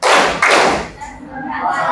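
A group claps hands during the tepuk konsentrasi counting-clap game in a junior high classroom, two sharp loud claps in quick succession followed by a softer pause, with voices speaking around them.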